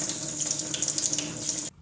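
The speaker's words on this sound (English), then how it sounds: "The next step is to rinse it in cold water" Cold tap water runs steadily into a sink while dyed Levi's Commuter Series trousers are rinsed, a continuous splashing hiss that cuts off abruptly near the end.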